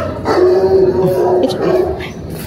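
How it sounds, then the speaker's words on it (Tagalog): A dog barks loudly and close by at a family home in Cavite, Philippines, a few sharp yappy barks with whimpering tones in quick succession. "Sa tahol ng aso"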